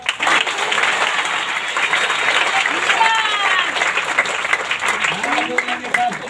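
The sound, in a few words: audience applause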